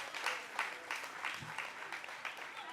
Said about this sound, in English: Can we please clap for everybody for coming around?